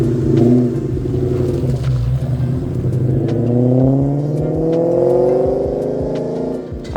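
A Ford SVT Cobra engine revs loudly up and down in smooth, rising and falling sweeps over a deep rumble, heard up close with no talking.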